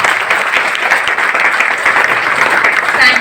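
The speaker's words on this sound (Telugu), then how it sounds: "మరి ఒక్కసారి దాన్ని క్లాప్స్ ఇస్తారా?" Audience applause at a testimony event for a neem toothpaste product, a loud, steady wash of clapping that fills the whole stretch with no pauses.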